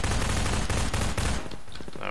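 A loud, dense burst of rapid gunfire in Half-Life 2 rattles continuously for over a second before breaking into a few scattered, fading shots.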